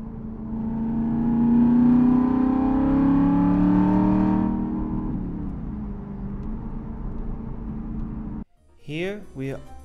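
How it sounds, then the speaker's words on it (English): Engine of a manual car revs up smoothly as the gas pedal is eased in gently, holding a steady rising drone before it settles to a lower hum. A voice speaks briefly at the end. "easing it in gently with the gas pedal instead of giving it too much gas"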